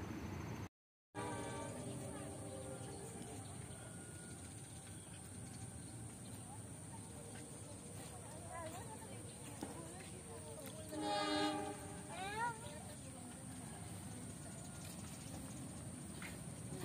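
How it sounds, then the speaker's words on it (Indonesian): A local Garut–Cibatuan passenger train on a curving line near Wanakerta rumbles past at steady volume, with brief high horn tones near the middle over continuous track noise, and a high electronic whine throughout. "Kereta api lokal Garut Cibatuan tujuan stasiun akhir pada larang, persiapan menikung di Wanakerta ya."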